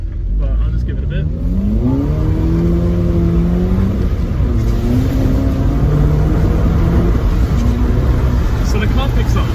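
A 2016 Volkswagen Polo GTI (6C) accelerating hard from inside the cabin, the engine note climbing steadily, dipping at gear changes and climbing again, loud and continuous.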